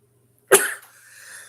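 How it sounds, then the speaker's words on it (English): A single sharp, explosive sneeze bursts out close by after a short silence, followed by a faint trailing breath. "Sorry for the sneezing."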